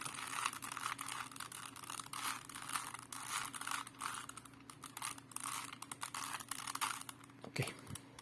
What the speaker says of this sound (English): first we shuffle it